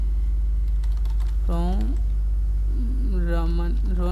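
Keys clatter on a computer keyboard during data entry in Tally accounting software, a few quick taps set against a steady electrical hum, with someone talking over them.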